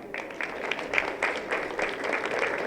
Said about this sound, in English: I'll simply ask once more a round of applause for the ladies Vasilopita